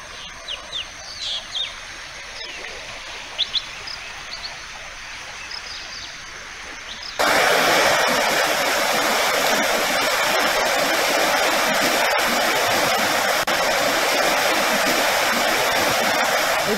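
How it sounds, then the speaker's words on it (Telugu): Floodwater from the swollen Chitravati river and overflowing streams near Anantapur after heavy upstream rain: a steady broadband rushing roar that becomes suddenly much louder and closer partway through, with faint bird chirps over the quieter opening. "ఎగువన కురుస్తున్న వర్షాలతో అనంతపురంలో వాగులు పొంగి ప్రవహిస్తున్నాయి."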